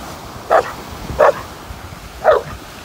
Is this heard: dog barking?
yes